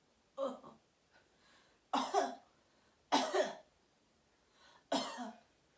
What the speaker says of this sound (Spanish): A ver, tose, no.